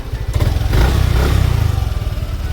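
A Yamaha Aerox scooter engine, recently flagged with error codes 12 and 37, runs at idle after warm-up, producing a loud, close, rapid pulsing putter with a slight clattery edge and no voices.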